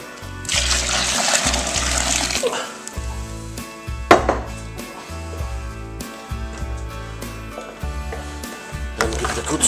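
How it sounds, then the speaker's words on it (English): Hot water from the stove is poured into a home brew mix made from two tins, a continuous watery pour and splash with some clanking of the pot, close and fairly loud, ending abruptly. "Add our hot water off the stove."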